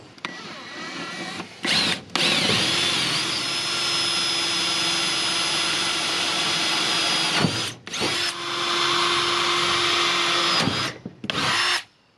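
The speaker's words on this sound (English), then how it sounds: "I don't want to have to drill too many holes here" A power drill whines loudly up close, driving into the boards of a 5 x 8 Tractor Supply utility trailer in several long runs, with brief pauses between bursts and no talking.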